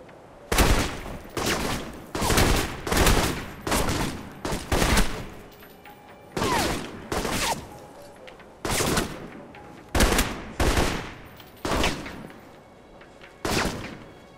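Repeated bursts of rapid gunfire in the video game Alpha Protocol, about a dozen loud, close volleys separated by short pauses, with no talking.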